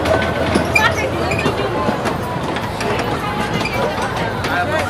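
An amusement park train ride at Fantasy Kingdom rumbles along with steady clattering and rolling noise, loud and close, while people talk over it.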